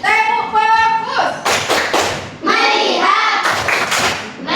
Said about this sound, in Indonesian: Coba tepuk fokus dulu.